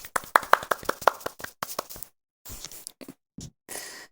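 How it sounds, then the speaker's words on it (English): A round of applause from a small group, a quick burst of sharp overlapping hand claps that thins out into a few scattered claps and soft rustling, close and fairly loud. "A round of applause."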